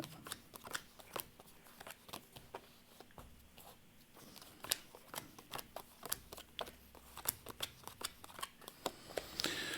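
Tarot cards being drawn and laid out for a fortune-telling reading, a quiet string of crisp, separate flicks and taps at an uneven pace, close up in a still room.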